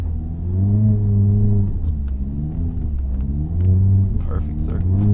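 Mazda ND3 Miata engine revving and droning loudly while doing donuts in snow, with a steady low rumble that rises and falls through the circles, plus brief scraping noise near the end.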